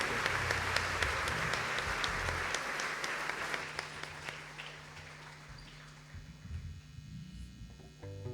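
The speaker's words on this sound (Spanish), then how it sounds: "Denle un fuerte aplauso a Jesucristo por la vida de nuestro hermano Francisco." A congregation at a Holy Spirit life seminar applauds, with sustained clapping that slowly fades, while a soft organ-like tone lingers beneath and comes forward at the end.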